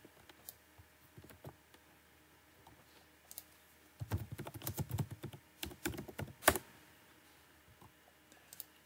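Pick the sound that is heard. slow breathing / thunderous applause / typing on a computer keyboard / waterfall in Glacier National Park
typing on a computer keyboard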